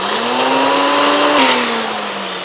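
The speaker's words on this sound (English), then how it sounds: "we are just gonna blend this until smooth." A blender whirring key lime mousse until smooth: a loud, steady motor whine with a slight pitch rise and dip midway, close and continuous.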